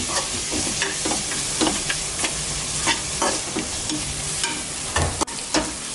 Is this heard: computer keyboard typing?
no